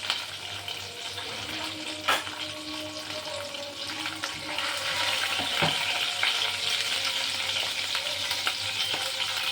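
Green chillies are added to a pan of frying potatoes for a vegetarian potato curry, giving a steady close sizzle with repeated stirring scrapes and a few sharp clinks of the spoon against the pan.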